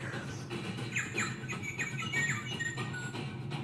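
Kea, the New Zealand parrot, gives a few bright, high chirping calls in quick succession over a steady low background hum, moderately close and clear.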